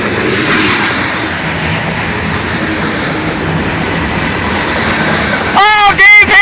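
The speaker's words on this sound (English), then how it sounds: "Boxcar coming up, you guys. Union Pacific boxcar." A freight train rolls past up close, carrying a Union Pacific boxcar among its cars, with a steady loud rumble and wheel noise throughout, then sharp squealing wheel tones near the end.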